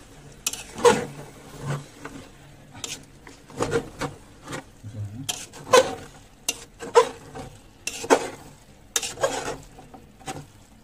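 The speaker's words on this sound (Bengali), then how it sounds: "বিরিয়ানি মশলা গুঁড়া দিয়ে আর নাড়িয়ে দিব" A spoon stirs chicken biryani with biryani spice powder in a pot, giving repeated scraping strokes at an irregular rhythm over a faint sizzle, close and fairly quiet, with no talking.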